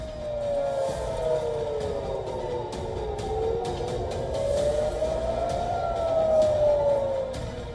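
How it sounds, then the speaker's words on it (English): Civil defense sirens across southern Israel wail, rising and falling slowly, overlapping and sustained, heard from a distance over a constant rumbling background. "Sirens sound across southern Israel."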